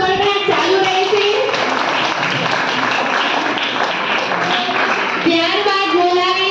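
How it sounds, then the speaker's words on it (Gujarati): An audience at a Standard 8 school farewell program in Gujarat breaks into sustained, dense clapping, with a voice speaking briefly before and after the applause. "તાળીઓનો ગણગણાટ ચાલુ રહેશે"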